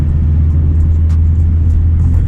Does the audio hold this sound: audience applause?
no